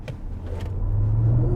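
A Maserati Grecale EV electric SUV accelerating hard with its very wide tyres scrabbling for grip, a low drone building into a louder, steady rising hum with no one speaking.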